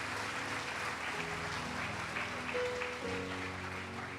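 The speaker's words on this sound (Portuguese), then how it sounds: "Dá um glória a Deus e aplaude bem forte." A church congregation claps steadily and loudly for about four seconds as a dense, even wash of hands, while sustained organ or keyboard chords play underneath.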